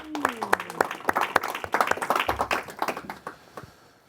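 Crowd applause at a London anniversary event for South Africa, with a rapid run of claps that fades toward the end. No one speaks.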